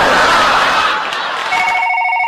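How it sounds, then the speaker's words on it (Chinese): A telephone rings on a Chinese comedy talk-show stage, its steady electronic ringing tone sounding clearly over crowd noise, the ring growing cleaner and more distinct toward the end. "来电话"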